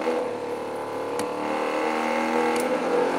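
A pump on a gas turbine runs with a steady mechanical whir and hum, layered tonal lines holding throughout, plus a couple of brief sharp clicks, close and continuous with no speech.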